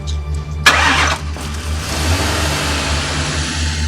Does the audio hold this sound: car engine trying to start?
yes